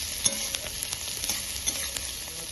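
Green chilies and turmeric powder get stirred in a frying pan: a continuous bright sizzle of hot oil with frequent scraping and tapping of the spoon, close and steady, with no voices.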